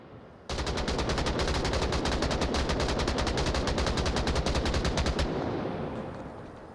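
Sustained automatic gunfire in the VR shooter Onward during a competitive match, a dense, loud, rapid burst of shots lasting about five seconds before cutting off into a fading echo.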